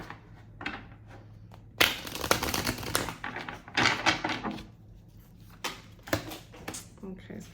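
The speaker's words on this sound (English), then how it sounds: "Okay, so dropping cards." Tarot cards are shuffled and dropped, heard as close, papery riffles and slaps in irregular bursts over several seconds.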